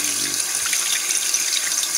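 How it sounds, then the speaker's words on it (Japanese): A spiny lobster gets a light rinse under running tap water, a steady bright hiss of water splashing into a sink that continues evenly throughout, with a brief low rumble at the start. "まずはこの巨大ザリガニ、通称伊勢海老を軽く水洗いしましょう。"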